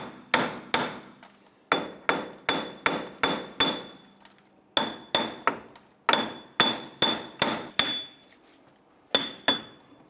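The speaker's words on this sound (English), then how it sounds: "continue to tap around here until the hub separates from the knuckle" Hammer blows tap a wheel hub loose from the steering knuckle of a 1999-2004 Jeep Grand Cherokee during a lower ball joint job, sharp metallic strikes landing in quick bursts of several hits separated by short pauses.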